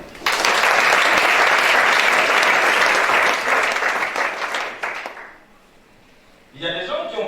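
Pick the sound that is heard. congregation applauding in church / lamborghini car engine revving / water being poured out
congregation applauding in church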